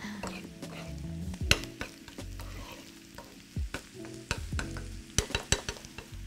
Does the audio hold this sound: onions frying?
yes